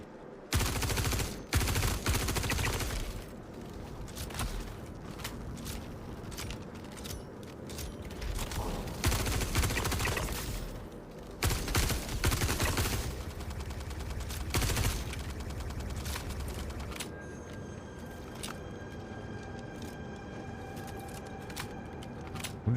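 Sustained gunfire in the space game Star Citizen, with dense bursts of automatic shots and heavy mechanical clatter rolling through most of the stretch, loud and close, with a few brief pauses between volleys.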